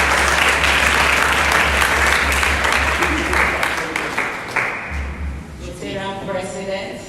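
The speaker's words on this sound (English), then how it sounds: "Please round of applause. Round of applause." An audience at a Rotary club education and literacy event breaks into loud, sustained clapping that gradually thins out, with a voice starting to speak as it fades.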